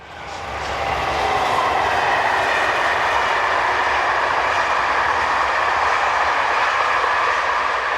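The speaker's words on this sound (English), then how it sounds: "from this location we have 15020 on a Strasbourg to Paris turn." SNCF 15000 class electric locomotive 15020 hauling a Strasbourg to Paris passenger train, a loud steady rushing roar with faint rail clatter that swells in during the first second, then holds close and continuous.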